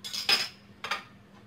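A small spoon clinks twice against a pan while tomato sauce is added to oil for a sardine kofta tagine, giving two short, faint metallic taps with quiet room hiss between them.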